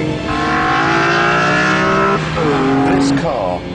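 A BMW M3 CSL engine revving hard at close range on the Isle of Man, its pitch climbing and dropping through gear changes, with a voice talking over it.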